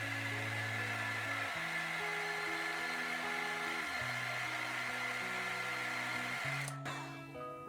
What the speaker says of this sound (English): Other heat guns might be different, but this is the distance that works for this gun.